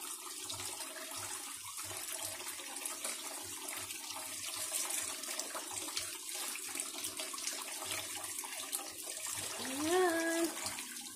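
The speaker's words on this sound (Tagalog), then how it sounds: "Tugasan natin ng cold water." Cold tap water runs steadily over cooked laksa noodles being rinsed, a soft continuous splashing stream, quiet and close, with a brief rising squeak near the end.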